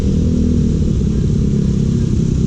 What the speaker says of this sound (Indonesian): karena suaranya benar-benar kayak knalpot standar